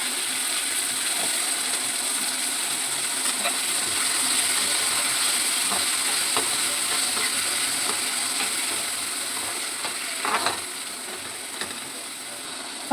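Chicken manchurian sizzles steadily in hot oil with onions, a continuous broadband crackle and hiss with a few sharper pops near the end, close and moderately loud with no talking.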